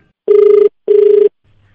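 Two electronic telephone rings sound loud and close, each a steady warbling burst separated by a short pause, with a faint low hum afterward.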